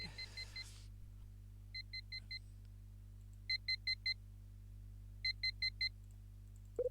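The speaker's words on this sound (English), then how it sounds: "On the table beside my bed is that damn alarm clock." Bedside alarm clock in The Last Window: The Secret of Cape West on the Nintendo DS, sounding in bursts of four rapid high electronic beeps that repeat after pauses, crisp and alone over a low steady hum.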